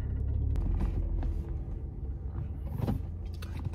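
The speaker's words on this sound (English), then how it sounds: "Right now, I have to drive through." A car rolls slowly through a drive-thru for a COVID test, its low engine rumble steady and close from inside the cabin, with a few brief knocks and rattles.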